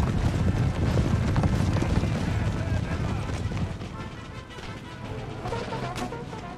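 Cavalry horses of the 1st Regiment of Horse, Provincial Cavalry, gallop across an Empire Total War battlefield, a dense rumbling clatter of hooves mixed with wind and distant battle noise that fades somewhat toward the end.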